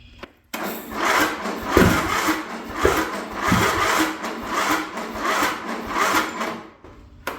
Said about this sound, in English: Kind of backfiring through the intake there.